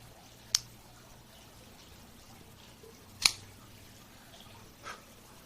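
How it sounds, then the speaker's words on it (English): A Cigarism V cutter notches a Bellas Artes Maduro cigar, giving three quiet, sharp snips spaced a few seconds apart over a hushed room. "Let's go ahead and give it a cut. Have our Cigarism V cutter."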